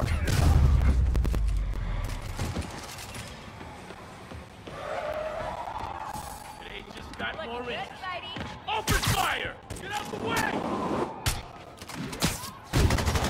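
Gunfire in Spider-Man Remastered breaks out as loud, sharp bursts after a stretch of tense quieter sound, with several shots clustered toward the end and voices shouting among them.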